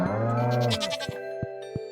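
Goat bleating in the farming video game Stardew Valley, one long wavering bleat up close followed by a few short tonal game chimes, with no voices.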